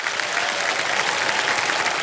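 A studio audience on the game show Kaun Banega Crorepati claps in steady, dense applause that stays loud and even throughout.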